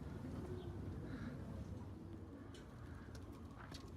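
Iranian High Flyer pigeons cooing softly in a backyard homestead hutch, low murmuring coos repeating over steady outdoor background noise, with no talking.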